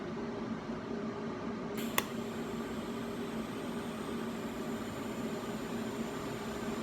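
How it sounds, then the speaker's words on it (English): A TIG torch runs steadily along a metal edge, fusing the pieces with no filler rod, giving a continuous close, even hiss and hum, with a single sharp click near the start. "just using the TIG torch and melting metal together"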